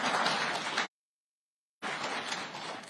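Audience applause at an official address by President Ruto, with the crowd clapping in two dense bursts split by a sharp gap of silence.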